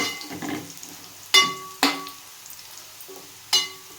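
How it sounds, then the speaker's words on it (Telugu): Dried shrimp frying in a pan for an okra curry, a low steady sizzle broken by several sharp stirring clatters of spoon against the pan, with no talking. "ఎండి రొయ్యలు ఇదిగోండి ఇలాగా వేసి ఇవి కూడా కొంచెం ఫ్రై చేయాలండి"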